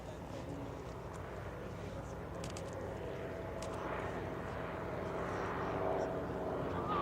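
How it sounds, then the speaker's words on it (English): Motor gliders making a low pass over the runway at EAA AirVenture, a faint, distant propeller drone that slowly grows louder against open-air background noise. "here's a good opportunity for you to see those motor gliders a little bit closer"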